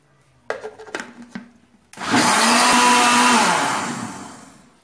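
A kitchen blender mixes rice pie batter with baking powder: a few short clicks and knocks first, then the motor whirs loudly and steadily for about three seconds before winding down.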